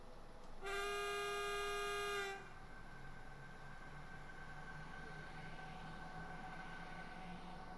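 A train departing Tutzing Station on the Munich-Garmisch line sounds a clear horn blast of about a second and a half, then a steady low rumble runs under a faint electric motor whine that slowly climbs in pitch as it gathers speed.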